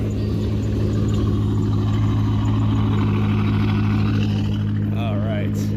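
At a Corvette car show, a car engine idles with a deep, steady rumble throughout, close and loud, with a brief high chirp near the end.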